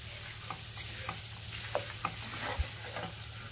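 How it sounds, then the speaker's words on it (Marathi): Grated potato shreds fry in hot oil for sabudana chivda, giving a continuous close sizzle with light bubbling and a few soft knocks of stirring. "आता आपण हा बटाट्याचा किस सुद्धा तळून घेऊया।"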